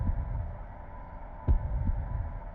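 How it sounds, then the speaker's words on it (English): A dungeon heart beats in Dungeon Keeper, slow muffled thumps with one stronger beat, set over a steady low hum and faint ambience. "And we can also hear a heartbeat"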